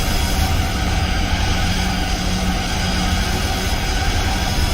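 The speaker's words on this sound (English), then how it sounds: "Really, really very nice exhaust note from the Evolution 4." Exhaust note of a Mitsubishi Lancer Evolution IV in the racing game Gran Turismo 4, a loud, steady engine roar held throughout while slipstreaming another car, with no talking.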